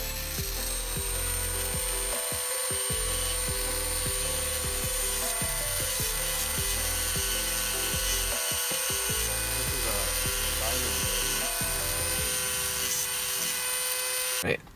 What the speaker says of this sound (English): gonna have to file that piece down a little bit just so you can try to fit it.